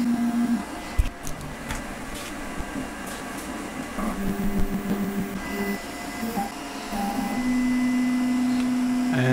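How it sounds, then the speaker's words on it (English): A Creality K1C 3D printer running a print, giving a steady mechanical hum with shifting stepper-motor tones and whirring fan noise, continuous and fairly close, with no talk. "I don't know if you guys can hear, the printer is pretty"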